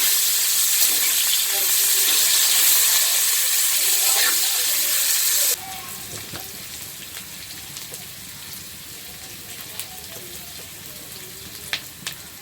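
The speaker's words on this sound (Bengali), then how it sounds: "পেঁয়াজটা একটু ভাজা ভাজা করে নেব।" Sliced onions sizzle loudly in hot oil with dried red chillies in a pan for a fish-head pui shak dish, then the frying drops to a softer, steady crackle with occasional stirring clicks.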